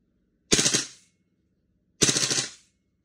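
A VFC Marksman IX airsoft gas blowback rifle fires two semi-auto shots about one and a half seconds apart, each a loud, close, sharp crack with a short blowback rattle, followed by silence.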